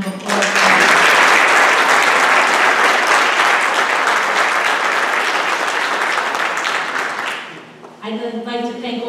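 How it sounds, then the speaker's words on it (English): Loud, sustained applause for the students at a Junior National Honor Society induction ceremony, fading near the end before a speaker's voice returns. "Can we give the students one more round of applause?"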